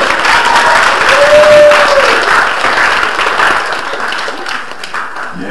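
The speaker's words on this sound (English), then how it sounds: "Everyone, give her a round of applause." Loud, close applause from a convention audience at a Hetalia fan panel at Aikon 2011. A brief whistle-like tone rises over the clapping early on, and the applause thins out gradually.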